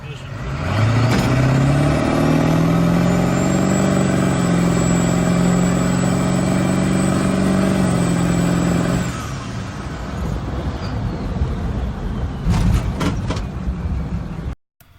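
A 7.3 Powerstroke diesel Bronco pulls away from a stop sign under full throttle, its engine roaring loud and steady with rising pitch for about nine seconds before dropping off, followed by quieter rattles and knocks.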